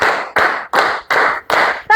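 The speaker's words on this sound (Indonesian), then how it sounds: "tepuk 5" Classroom children clap together in a steady counted rhythm, five evenly spaced bursts of group clapping, and a voice begins just at the close.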